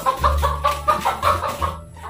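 A chicken clucks repeatedly in short, close, loud bursts, with a low rumbling noise underneath.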